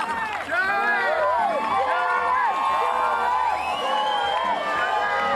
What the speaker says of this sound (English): They're chanting Shuey.